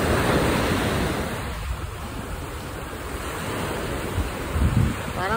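Ocean waves rolling onto the shore in front of a beachfront hotel, a continuous close roar of surf buffeted by heavy wind noise on the microphone.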